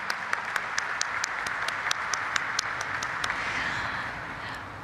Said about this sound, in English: let's have a huge round of applause for Emcure Pharmaceuticals Limited